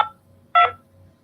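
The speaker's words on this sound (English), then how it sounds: "Using your touch-tone phone, please enter your PIN number." Two touch-tone keypad beeps ring out as a PIN is entered on a phone, one clipped tone at the start and a second clear beep after a short pause, loud and close.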